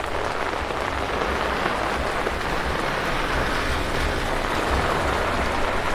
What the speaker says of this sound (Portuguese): A chuva está enfraquecendo, ó.